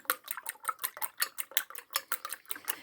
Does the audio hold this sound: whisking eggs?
yes